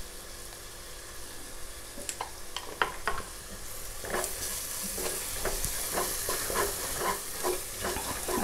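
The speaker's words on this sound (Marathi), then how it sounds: "आपण चांगला परतून घ्यायचा तेलावर।" Garam masala sizzles in hot oil while being stirred for Marathi-style prawn rice, a steady crackling fry with a hiss of steam and scattered scraping clicks of the spoon against the pan, close up with no talk.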